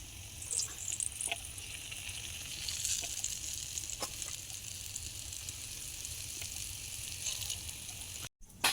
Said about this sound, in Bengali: আমরা রসগোল্লাগুলোকে ভেজে নেব দেখুন ফেলার সঙ্গে সঙ্গে কতটা বড় সাইজের হয়ে যাচ্ছে